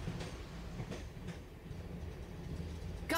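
A train moves along its tracks in the video game Dark Cloud 2, a steady low rumble with rhythmic clacks, heard alone with no talking.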